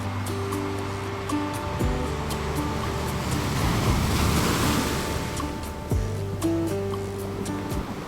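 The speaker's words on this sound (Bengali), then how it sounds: "দেখুন কিরকম ঢেউ পেছনে।" Sea waves roll and break continuously on the beach at Puri, a broad steady roar with wind buffeting the microphone throughout.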